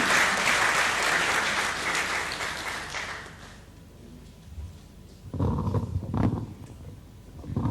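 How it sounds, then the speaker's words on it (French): An audience applauds as the Minister of Economy and Finance is welcomed to the podium at the closing of a CIMA insurance-markets conference, dense clapping fading out, followed after a pause by closer shuffling and handling noises. "Sous vos acclamations"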